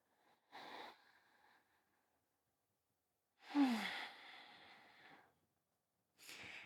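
Two deep breaths during a calm bedtime yoga practice, a short inhale followed after a pause by a longer, louder sighing exhale, close and alone in a quiet room.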